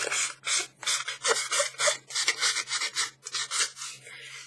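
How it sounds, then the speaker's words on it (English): Brisk rasping strokes of a small nail file sanding the edge of paper, repeated in a steady back-and-forth rhythm, close and fairly loud with no talking. "I'm just going to use my little nail file"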